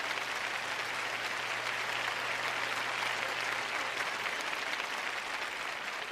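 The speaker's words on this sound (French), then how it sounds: "Vous n'êtes pas enthousiasmé, mais vous applaudissez au moins." Sustained applause from a church congregation at a French-language sermon, steady broadband clapping that fills the whole stretch at moderate level with no voices over it.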